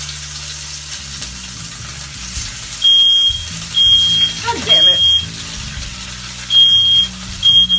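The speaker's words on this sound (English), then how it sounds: "Every freaking time I cook on this burner, the alarm goes off" A smoke alarm beeps in loud repeated bursts, set off by frying food on a kitchen burner, over a steady sizzle, with a man cursing briefly.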